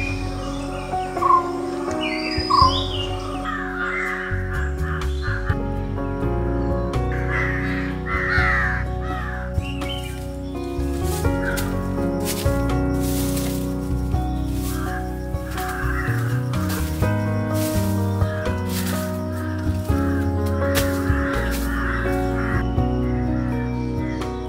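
Crows cawing among other calling birds outdoors in Wayanad, Kerala, loud harsh caws repeating irregularly throughout over a steady background of birdsong and tonal hum.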